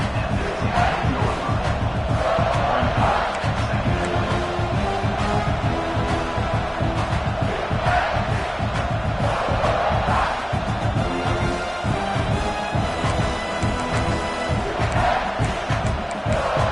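A college football stadium crowd in a South Carolina versus Penn State video game roars continuously, dense cheering and whooping rising in waves as the defense tries for a red-zone stop, with no commentary over it.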